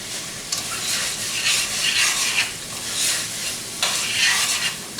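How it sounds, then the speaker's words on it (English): Rice for risotto primavera scraped and stirred around a hot pan, a steady sizzle broken by repeated swishing strokes of the spoon, close and with no voices. "Remember, you keep stirring this while you're doing it."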